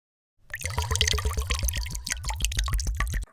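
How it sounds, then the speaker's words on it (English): Water glugs from a jug into a jar of hibiscus agua de Jamaica, starting abruptly after a short silence and continuing as a rapid, rhythmic run of close gurgles and plops until it cuts off. "now we got to add our 6 cups of Mayan water"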